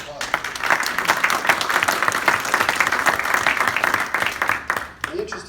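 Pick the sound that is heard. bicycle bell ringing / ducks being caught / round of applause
round of applause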